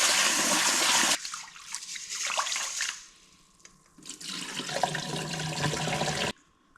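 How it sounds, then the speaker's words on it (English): Sushi rice being washed in water, with bursts of running and swishing water in a sink separated by quieter gaps, close and fairly loud, ending abruptly. "I'm going to wash my sushi rice well, and we'll leave it in water for a few hours"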